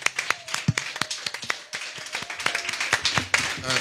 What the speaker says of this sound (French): Est-ce qu'on peut acclamer pour Jésus?